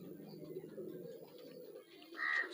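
A pigeon coos softly in low repeated throaty pulses, faint and close, with a brief brighter chirp near the end.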